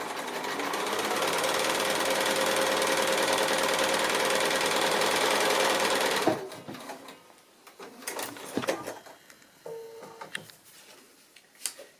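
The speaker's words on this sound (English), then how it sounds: "So I'm stitching, starting just before the line across." A sewing machine runs steadily for about six seconds, stitching cotton thread through fabric with a regular needle on a short stitch length while foundation piecing a quilt block, then stops, leaving only quiet handling noises.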